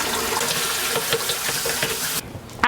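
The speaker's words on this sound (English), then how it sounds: "After rinsing your half cup of lentils and half cup of rice" Tap water runs steadily into a sink while lentils and rice are rinsed, a continuous close splashing wash that stops abruptly near the end.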